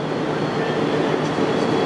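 Freight train from Carlisle Yard to Doncaster Decoy running through Preston station, a steady loud rumble of wagons and rail noise throughout with no pauses.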